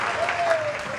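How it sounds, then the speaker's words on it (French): An audience applauds for a birthday celebrant, a steady dense patter of clapping throughout, with a voice carrying over the top. "on applaudit s'il vous plaît pour lui"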